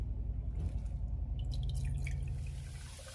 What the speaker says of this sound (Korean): 흐르는 물에 브로콜리를 씻어주세요.